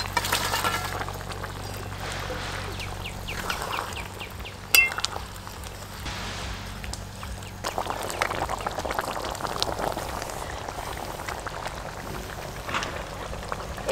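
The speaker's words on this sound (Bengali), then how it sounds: "ঝোল খুব ভালোভাবে ফুটে গেছে" Tomato gravy for a rupchanda fish curry bubbling in a pot as fried fish pieces go in, with soft gurgling pops, a sharp clink of utensil on metal midway, and light splashes, close and fairly quiet.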